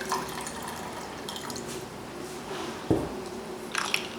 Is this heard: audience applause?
no